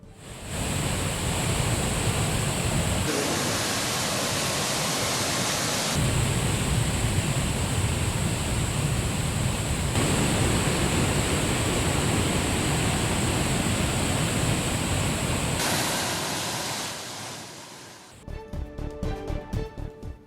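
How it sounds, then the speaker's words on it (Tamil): Floodwater roars down Suruli waterfall toward the Bhootha Narayana temple at its base, making a dense, unbroken thundering rush that holds steady and loud before giving way to a different, choppier noise at the end. "சுருடி அருவியின் கீழ்ப்பகுதியில் அமைந்துள்ள பூதநாராயண கோயில் வரை தண்ணீர் ஆர்ப்பரித்துச் செல்வதால்"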